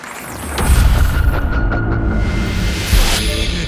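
An arena crowd at a bare-knuckle fighting event applauds after a drawn bout, a loud, sustained wash of clapping and crowd noise with sharp bursts rising through it.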